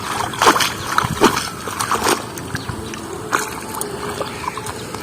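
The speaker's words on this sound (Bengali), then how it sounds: "সামলার গোড়াটা ভালো করে ধুয়ে নি।" Water plant roots being rinsed by hand in a village pond where water lilies are gathered: close, uneven sloshing and splashing in several bursts, then quieter trickles and drips.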